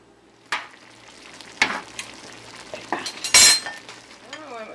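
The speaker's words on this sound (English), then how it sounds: "I'll cover it and let it simmer for 5 minutes" Pot and utensil clinks and clatter ring out over a faint simmer as a pot of Jamaican curry shrimp is handled and lidded, with several sharp metallic knocks and one louder scraping clank.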